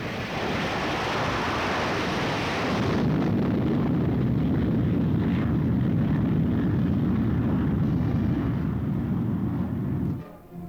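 Jet bomber aircraft roaring steadily and loudly throughout, a broad continuous rumble that swells after a few seconds and cuts off abruptly near the end, with no voices.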